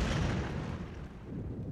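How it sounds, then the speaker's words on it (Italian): Howitzers fire heavy artillery shells of over 100 kg at enemy defences in a World War II battle, a loud deep booming blast with a rolling rumble that fades over a second or two, with no voices. "filmano gli obici che sparano proiettili da oltre 100 kg sulle difese nemiche"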